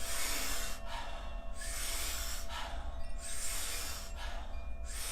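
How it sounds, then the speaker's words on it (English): Powerful, rhythmic breathing through the mouth during a yoga breathing session: forceful breaths repeat at a steady pace, loud and close, with no talking. "we're going to be taking about 30 to 40 powerful breaths into the body"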